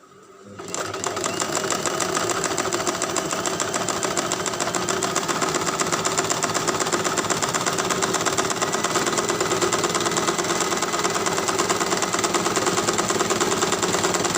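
Sewing machine stitching a folded edge of spunbond fabric for a face mask, starting after a short pause and then running continuously with a fast, even mechanical rattle, close and steady.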